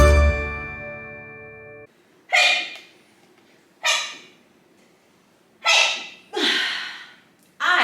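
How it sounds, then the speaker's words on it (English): Four sharp, forceful human sneezes come one after another at uneven gaps, each a short explosive burst that trails off into quiet. A brief steady tonal sound plays before them. "That was probably the 50th time I've sneezed today."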